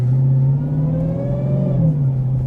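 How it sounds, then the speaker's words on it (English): A Dodge Demon 170 accelerating in normal street mode, its loud supercharger whine rising steadily over a deep engine rumble inside the cabin, with no talking. "Immediately the supercharger whine is substantially louder, much louder."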